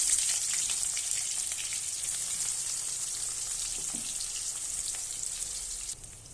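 Loud, steady sizzling of onion and bay leaf frying in hot oil in a kadai, close up, with a faint clink partway through and the hiss easing slightly at the end.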